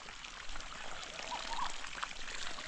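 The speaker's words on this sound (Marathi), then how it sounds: "पाणी चालू केलं सगळ्या नळ्यांमधनं पाणी येतं आहे" Water runs from pipes on a farm plot after being turned on, a faint, continuous pouring and trickling hiss with no voices.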